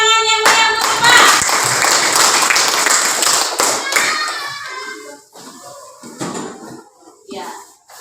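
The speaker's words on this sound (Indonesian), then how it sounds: "Beri tepuk tangan yang meriah untuk Bapak." A room of people claps together for a presenting group at an end-of-exam performance event at UIN Ar-Raniry in Banda Aceh. The dense, bright applause runs loud for several seconds, then thins out into scattered claps and brief voices.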